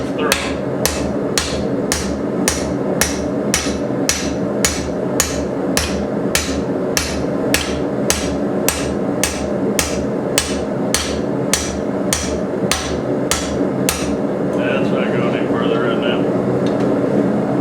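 Hammer driving a drift through holes in hot steel at a blacksmith shop, loud evenly spaced metallic blows, about two per second, over a steady background roar, ending with a short stretch without strikes.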